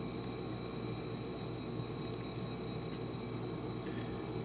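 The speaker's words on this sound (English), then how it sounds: "we'll show you a little bit of the trains running around here" Model railroad trains run around the track with a steady, continuous low rumble and whir, fairly faint and unchanging throughout, with no voices.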